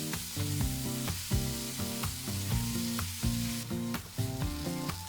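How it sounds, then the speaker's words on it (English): Chopped tomato fries in a pan for a Goan sausage fried rice, a steady close sizzle broken by repeated clinks and scrapes of a utensil stirring against the pan, no voices. "Then add 1 chopped tomato and fry the tomato until it is nice and soft."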